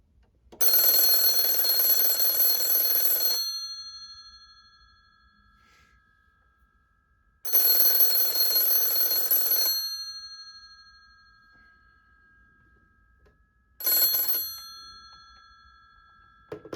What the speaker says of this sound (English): And then we'll ring the phone. I'll give it 3 rings and pick up on the 3rd.